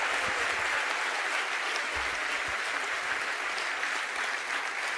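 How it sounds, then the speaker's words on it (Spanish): Audience applause for Lula at a university ceremony awarding an honorary doctorate to Rafael Correa, dense sustained clapping from a large crowd throughout, steady and fairly loud. "para el cual también pido un fuerte aplauso"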